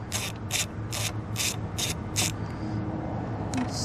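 A screw being backed out of the track on a T2V3 gearbox: a run of six quick, crisp ratcheting clicks in steady rhythm, close and fairly loud, then a pause and one last click.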